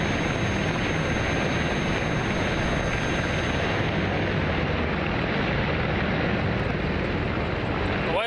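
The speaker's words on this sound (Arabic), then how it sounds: "يليها تشكيل رباعي من طائرات بل 212 التابعة للقوات الجوية للدول المشاركة" A formation of four Bell 212 helicopters passes over during an air force display, a steady, broad rotor-and-engine roar that holds loud and continuous throughout.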